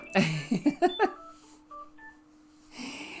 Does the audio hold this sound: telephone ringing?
yes